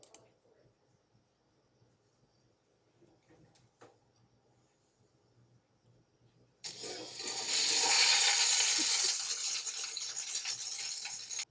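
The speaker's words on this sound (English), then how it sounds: "I just made you watch a toilet flush" A toilet flushes after several seconds of near silence: a loud, close rush of water that holds steady for about five seconds before it starts to fade, with no talking.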